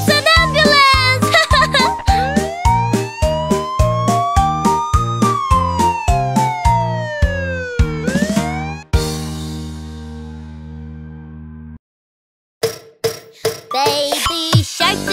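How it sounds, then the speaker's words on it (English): A bright electronic toy tune with a wailing toy ambulance siren tone sweeping up and down through the melody, loud and close, then a brief pause and more chimes. "It's a siren!"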